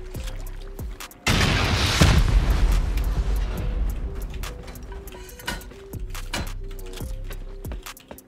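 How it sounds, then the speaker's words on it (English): Video game rocket explosions hitting a turret on a cliffside base: a loud booming blast with a long rumbling, debris-like decay, set among repeated sharp clicky game sounds and no talking. "Rocketing my turret, maybe?"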